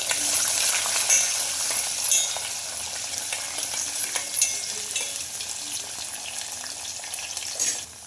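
Carrots and beans sizzle and fry steadily in hot tempering in a pan, a dense continuous crackle with light stirring scrapes throughout and no talking.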